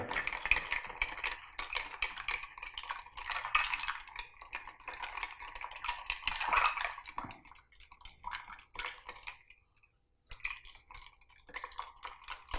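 A bar spoon stirring a Fair and Warmer cocktail, with steady, rapid clinking of metal against ice and glass that runs for several seconds, pauses briefly, then resumes.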